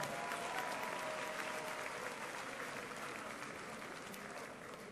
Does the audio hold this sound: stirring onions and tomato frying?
no